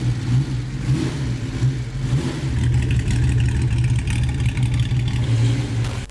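Jaguar inline-six engine revving through a side-exit exhaust, a loud, close, throaty drone that rises and falls across several throttle blips with no talk.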